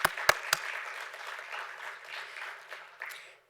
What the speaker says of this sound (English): How about another great big round of applause?